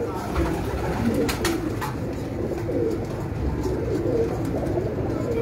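Breeder pigeons on a rooftop coo in a low, continuous murmur, with a few short sharp flutters near the middle and faint voices in the background.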